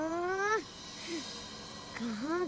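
A cat meows twice, a long rising-falling cry followed by a shorter one, then a third drawn-out meow, loud and close.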